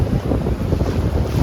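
Parasailing boat riding over sea waves off Goa, with steady, close engine rumble, rushing water and heavy wind buffeting throughout, with no talk.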